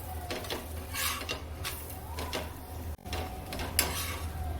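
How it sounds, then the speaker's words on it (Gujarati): Paratha shallow-frying in a little oil and being flipped in a pan, scraping and clattering of a utensil against the pan over a faint continuous sizzle, close and fairly loud. "ઓછું તેલ નાખવાનું છે ને બે બાજુ આ રીતે આપણે અલગ પલટ કરતા જઈએ ને સેડવી લઈએ"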